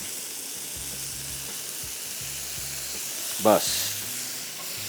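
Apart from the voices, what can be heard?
okra being mixed and frying in a pan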